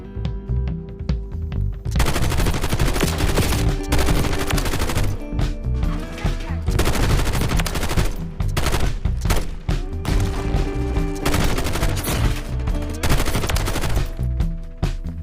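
A bipod-mounted light machine gun with a 75-round magazine fires in Warzone Mobile, loud sustained automatic bursts broken by brief pauses and running for about thirteen seconds with no voices over them.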